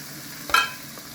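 Chopped carrots with red and green peppers get tossed in a hot pan, with a brief scrape and sizzle burst over a faint steady background hiss.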